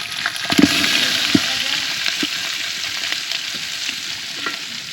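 Chopped onions and chillies fry loudly in a pan at an outdoor village cook-up of goat meat, with a constant close sizzle and scattered clicks of stirring.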